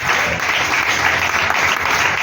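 A church congregation claps and cheers for Jesus, dense steady applause from a large crowd that stays loud throughout.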